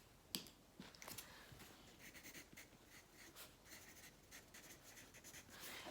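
Pencil scratching across paper as a child writes a name during a kindergarten lesson, a steady run of soft scraping strokes close up, with a few sharper taps and no talking.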